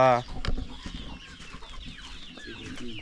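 Chickens and many chicks on a village farm cluck and peep steadily at moderate volume, with chirps scattered throughout.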